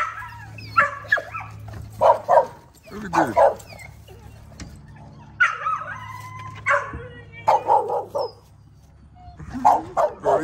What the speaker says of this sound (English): These dogs are so big